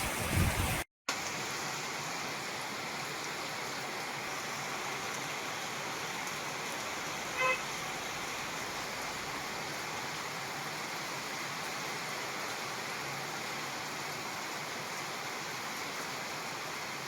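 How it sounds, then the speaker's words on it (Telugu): Heavy rain pours down during a cyclone-driven storm in Warangal district, a dense, steady wash of falling water heard close and loud for the whole stretch, with no voices. "భారీ వర్షం కురుస్తోంది"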